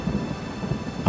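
Rain falls steadily with a low rumble of thunder beneath it, heard alone and close for about a second as someone stands at a window watching the downpour.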